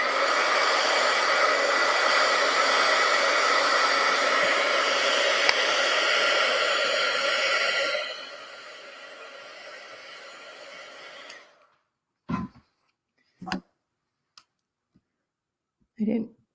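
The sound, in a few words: dryer blowing to dry paint on art journal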